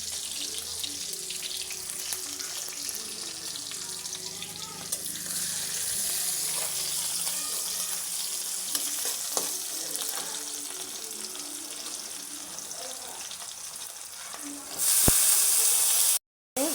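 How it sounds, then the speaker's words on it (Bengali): Cabbage and carrots stir-fried in a pan in a home kitchen, a continuous close sizzle with occasional scraping and clinks of a spatula, growing louder near the end. "আর পাতাকপি ভাজি।"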